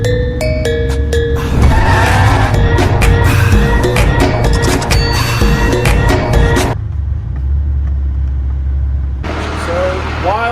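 A bagged Dodge truck drifts with loud, sustained tire squeal and skidding over a roaring engine, overlapping excited voices, then a sudden drop before the engine noise returns.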